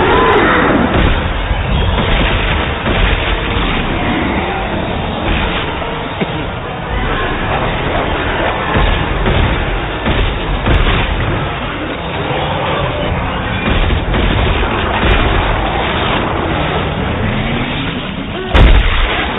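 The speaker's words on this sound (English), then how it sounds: "Way too many shots there." Dense, rapid gunfire and booming blasts from the Dead Space 3 video game on PS3, a loud, nearly continuous barrage of shots and explosions filling the whole stretch, with faint voices mixed in.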